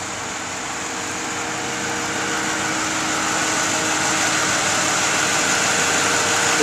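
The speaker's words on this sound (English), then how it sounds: "This vehicle has a V8 engine." A 2001 Ford Mustang's V8 engine idles steadily with a constant hum and hiss, close and fairly loud, growing slightly louder over the span with no talking.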